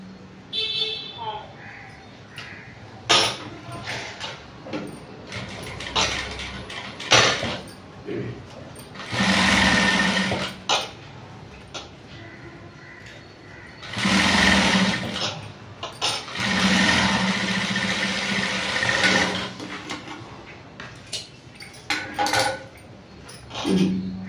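A sewing machine stitches a princess cut blouse in a tailoring class, running in several short and longer bursts of whirring at close range, with someone talking between and over the runs.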